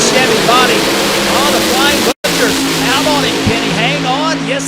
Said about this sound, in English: A pair of bad to the bone hot rods with supercharged fuel injected methanol Hemis.